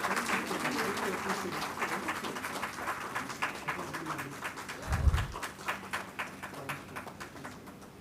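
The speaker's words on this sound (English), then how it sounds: "A huge round of applause, please." An audience claps in a sustained round of applause welcoming a guest speaker at a school parenting talk, a steady crackling wash of many hands throughout, with a brief louder thump partway through.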